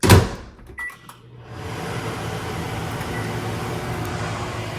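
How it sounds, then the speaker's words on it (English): A microwave oven heating a pack of birria: a door clunk and button beeps, then a steady low electric hum as it runs, close by. "put it in the microwave"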